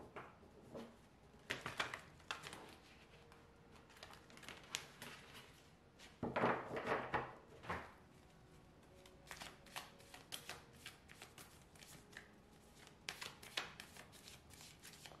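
Tarot cards are drawn and handled from a deck, giving soft, close papery shuffling and slapping sounds in irregular bursts with quieter gaps, one fuller flurry midway.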